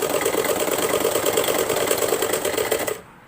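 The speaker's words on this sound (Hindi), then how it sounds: "आधे इंच की सिलाई लगाते हुए हम पाइपिंग लेनी है।" A sewing machine runs steadily, stitching piping onto a small table runner at a fast, even whirring rhythm for about three seconds before stopping abruptly.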